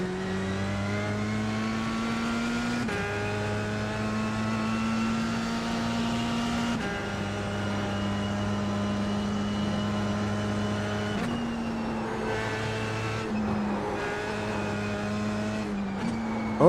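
Race car lapping the Nürburgring Nordschleife in a driving game, its engine droning loud and close with repeated upshifts and downshifts, pitch climbing and dropping between corners, no talk.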